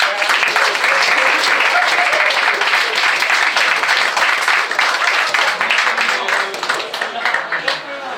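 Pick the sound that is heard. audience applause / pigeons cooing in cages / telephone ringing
audience applause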